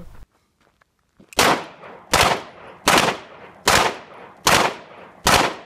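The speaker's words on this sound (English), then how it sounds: "firing a 357 revolver and a Beretta 9mm in opposite directions" A .357 revolver and a Beretta 9mm pistol fired outdoors, six loud sharp shots spaced evenly about a second apart after a brief quiet start, each with a ringing decay and no talking.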